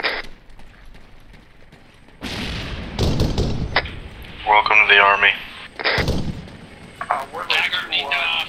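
Gunfire during a military field training exercise: several loud, sharp reports and thumps spread across the clip, some in quick bursts, with a soft mechanical rattle between them.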